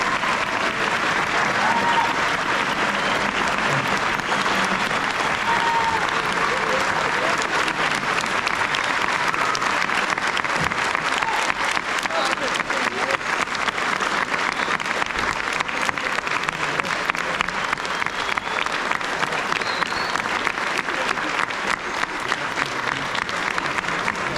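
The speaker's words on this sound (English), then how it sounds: "I would love for you to join in a warm round of applause" A lecture audience at the Reagan Library gives a long, sustained round of applause, a dense and even wash of many hands clapping that goes on without pause.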